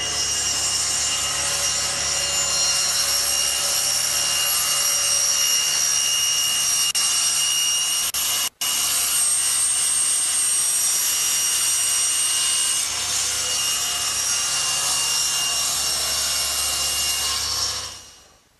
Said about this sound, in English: I like to use the table saw. And by using the fence as a guide and slowly plunging the piece over the blade, I can cut out my slot